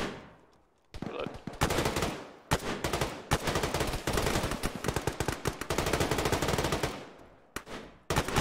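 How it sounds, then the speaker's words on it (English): Sustained bursts of machine gun fire in the Arma military shooter, loud and dense, running almost continuously for several seconds with brief pauses between volleys; a voice is faintly present underneath. "I'm just sitting here getting shot at."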